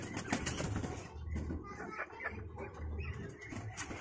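Pigeons inside a loft with eggs in the nest give soft low coos and faint rustling and shuffling, with quiet talking in the background.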